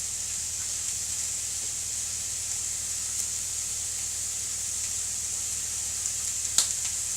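Chillies and paprika sizzle in a pan with an even, bright hiss that holds steady throughout. A spoon stirs them and a few soft clinks sound near the end.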